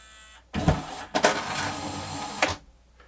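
Motor noise inside a Pioneer CLD-V870 laserdisc player under repair: after a quiet start, a close mechanical whirring and grinding runs for about two seconds, broken by a brief pause and clicks, then stops sharply.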